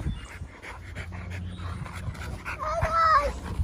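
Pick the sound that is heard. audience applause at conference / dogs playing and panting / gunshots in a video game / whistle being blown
dogs playing and panting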